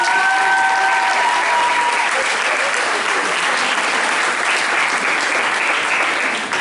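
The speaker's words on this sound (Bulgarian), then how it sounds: "Нека не спираме аплодисментите" Continuous audience applause fills the hall at the Sarandev pop-rock contest award ceremony, a thick, even wash of many hands clapping that holds loud from start to finish.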